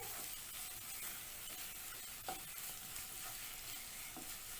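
Red chilies sauté in hot oil as a tempering for a red chili pickle. A soft, steady sizzle carries on throughout, with an occasional faint stir of the spoon in the pan.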